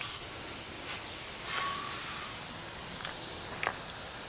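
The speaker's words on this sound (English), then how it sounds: "I'm just spraying my trailer off, make sure that it's not on there" A hose sprays water across a boat trailer in a steady, soft hiss that continues evenly throughout with a few brief clicks.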